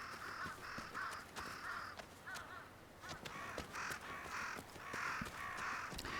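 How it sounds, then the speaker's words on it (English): Crows caw over and over in the video game Ghost of Yotei, a steady run of harsh repeated calls from a whole flock set against a constant ambient background, with no talk heard. "There are tons of crows in here, making a lot of noise."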